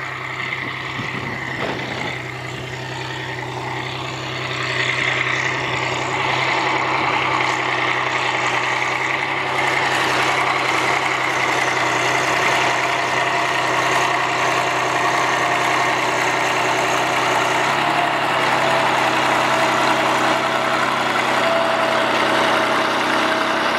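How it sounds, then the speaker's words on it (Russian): A Kirovets K-701 tractor, 33 years in service with a rebuilt engine, idles close by: a loud, steady diesel rumble with a constant low drone held throughout, no talk. "очень громко, когда трактор близко, невозможно разговаривать"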